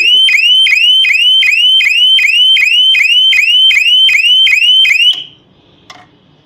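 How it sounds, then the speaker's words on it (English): A loud anti-theft shutter alarm siren repeats rapid rising whoops in a steady rhythm for about five seconds, then cuts off, leaving faint room noise and a small knock. "in 15 seconds a sharp powerful alarm would go off"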